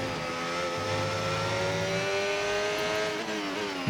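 A race car engine in a racing video game holds a loud, continuous high-revving whine through the final corners of a pole-position qualifying lap in Texas, with the pitch shifting slightly as it accelerates.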